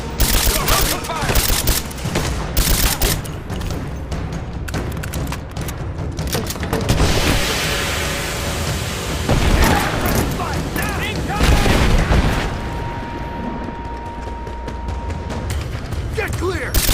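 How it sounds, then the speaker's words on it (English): Heavy gunfire and blasts from a Rise of the Tomb Raider firefight, with dense bursts and booms running nonstop at high volume while voices shout over the din. "Give me covering fire! Open fire!"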